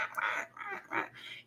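A crow makes a series of about four short, raspy, chattering calls close by as it walks across a courtyard, with brief pauses between calls.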